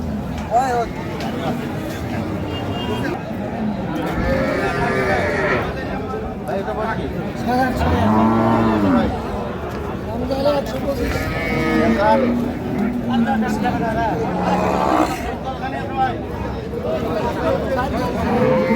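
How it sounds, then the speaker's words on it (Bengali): Dairy cows and calves moo among the crowd at Ambari cattle market in Dinajpur, a few drawn-out lowing calls rising over steady market chatter and people talking nearby. "গাভী বাছুর আমরা দেখছিলাম"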